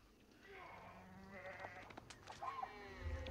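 Sheep bleat in a real-time strategy video game match, a few faint, short calls scattered over low game background noise and a quiet ambient hum.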